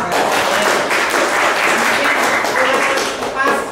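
Classroom applause after a student group presentation: a short, full burst of clapping from the class, with voices talking over it.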